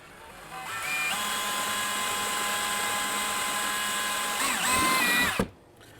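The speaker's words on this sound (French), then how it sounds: "On va faire deux trous, mais il y a deux marques pour l'endroit où que nous devons driller les trous." A power drill with a 1/4 inch bit drills into the rear rack of a Can-Am Spyder to fit a Givi B47 Blade top case, whining loud and steady for about five seconds, rising slightly in pitch near the end before stopping abruptly.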